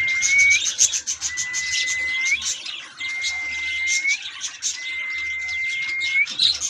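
Pet budgies in a home aviary chatter and chirp continuously, with repeated rising whistle calls and busy twittering from several birds, fairly close and steady throughout.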